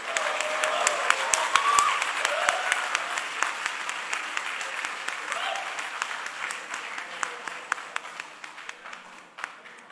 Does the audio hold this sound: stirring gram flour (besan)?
no